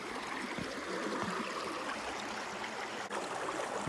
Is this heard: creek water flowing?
yes